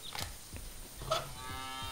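A cow in the video game Deponia gives a moo, a single cartoonish lowing call with harmonic tones, heard at close range against a faint synthetic background.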